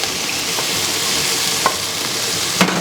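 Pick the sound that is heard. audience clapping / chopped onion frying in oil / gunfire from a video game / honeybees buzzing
chopped onion frying in oil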